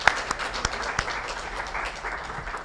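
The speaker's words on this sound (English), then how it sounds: "let's give them another round of applause" A conference audience gives a panel a round of applause, a soft, diffuse patter of many hands that stays fairly even and a little distant for a couple of seconds.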